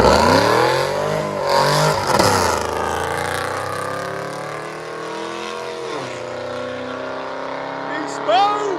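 A Chevy Camaro SS with a 6.2L V8 and full tube headers revs and roars loudly, engine pitch rising and falling through sweeps, close by with voices mixed in.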